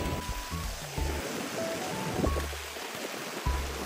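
An ocean wave rolls in on the north coast of Taiwan near Yehliu, a steady rushing wash of surf with gusty bursts, heard close and fairly loud.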